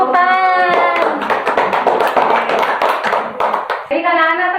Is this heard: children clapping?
yes